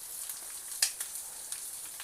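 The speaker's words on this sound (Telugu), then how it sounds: "పచ్చిమిరపకాయ ముక్కలు వేస్తున్నాను." Green chilli pieces and ginger sizzle in hot oil for pulihora, a faint, steady frying hiss with a few small pops and crackles and no talking.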